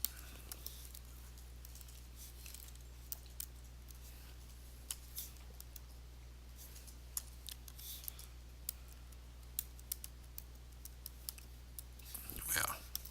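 Quiet, scattered clicks of computer keyboard typing come through in short irregular bursts over a low steady hum, faint and close, with a brief rustle near the end.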